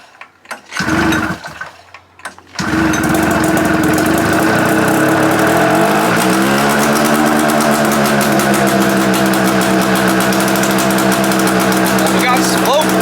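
After a few short sputtering attempts, a 600cc Arctic Cat engine in a vintage buggy catches and roars, then climbs into a steady high-pitched rev that holds loud and constant.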